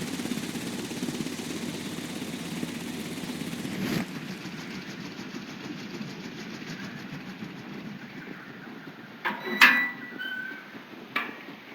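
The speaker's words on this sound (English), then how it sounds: "This ventilation fan is working." Ventilation fan running in the Sherlock Holmes: Crimes & Punishments game: a steady low mechanical hum and whir that drops to a quieter, thinner drone partway through, with a few brief sharp clicks near the end.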